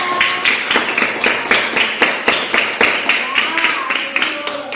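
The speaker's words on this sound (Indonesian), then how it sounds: "Tepuk tangan dulu semuanya." A group at a school literacy event claps along in a quick, uneven rhythm, with sharp repeated hand slaps and voices talking or cheering over them.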